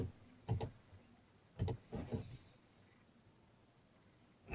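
Several close, sharp computer mouse clicks, a couple of single clicks and a quick pair, in a quiet room with no talking.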